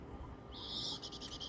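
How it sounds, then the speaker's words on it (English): A faint high, wavering bird call rises from the background outdoors during a dog training session, a short trilled note that breaks into quick pulses over low ambient rumble, distant and soft. "That's a bird."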